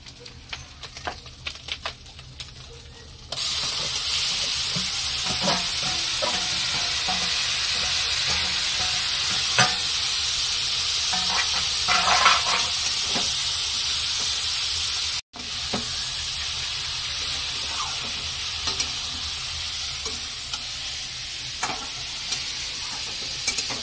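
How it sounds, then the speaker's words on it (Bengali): A spiced potato mixture with garlic paste, salt and turmeric fries in leftover fish oil in a wok, a loud sustained sizzle after a quieter start, with stirring scrapes and a brief cut midway. "তো এটা কড়ার ভিতরে ঢেলে দেবো, মাছের তেলগুলোর ভিতরে ঢেলে দিয়ে দেবো।"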